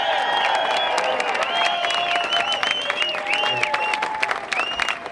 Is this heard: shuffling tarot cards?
no